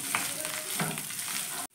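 Ginger and garlic frying in hot oil for chilli paneer, a continuous close sizzle with light stirring scrapes, running steadily and then cutting off abruptly at the end.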